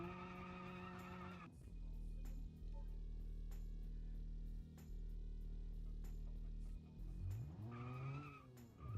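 A 1990s Japanese sports car fitted with a race intake drifts, its engine droning steadily and loud between revving passes as the tires skid and squeal.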